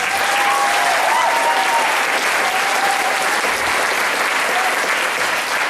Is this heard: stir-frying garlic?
no